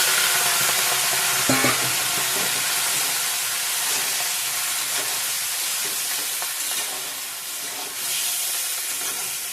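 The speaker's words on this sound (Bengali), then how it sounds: "আগে সবজিগুলো একটু কষিয়ে নেব দিয়ে দিলাম" Chopped vegetables with minced ginger frying in a pan for a Bengali spinach dish, a loud continuous sizzle and steamy hiss with occasional stirring scrapes, close up and without talk.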